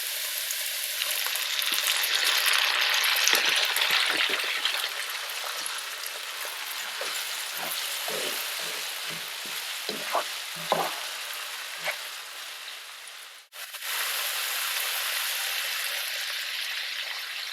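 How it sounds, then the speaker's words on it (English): Vegetables sizzling in a pan as white wine cooks off, a dense, continuous hiss with scattered crackles and a brief stir near the end, close and steady with no talking. "you just cook off that white wine until there's no more sort of liquid, and you've just got the vegetables remaining there"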